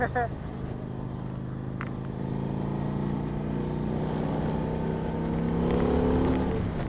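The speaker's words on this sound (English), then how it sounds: "the engine sounds great on this thing." Steady Victory Vegas 8-Ball motorcycle engine running with a low, continuous drone that slowly rises in pitch as it revs, heard up close without pauses.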